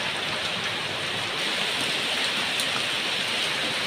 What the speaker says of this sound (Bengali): বন্ধুরা দেখো বাইরে কত বৃষ্টি হচ্ছে আজকে।